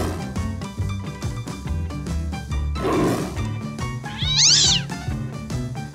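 A small domestic cat meows and squeals over upbeat background music, with a brief high, rising cry that stands out near the end.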